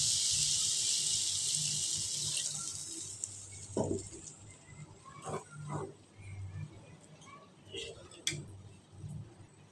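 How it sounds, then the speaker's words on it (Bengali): Water pours with a steady rushing hiss for a few seconds into a curry pan of simmering potatoes for a small khoilsha fish curry, followed by quieter kitchen clinks and bubbling. "এখন আমি ঝোলটা দিয়ে দিব"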